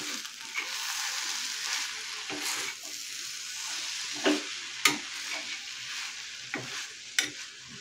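Spring onion dry vegetable dish frying in a pan, a soft steady sizzle with several sharp scrapes and clinks of a spoon stirring, no voices.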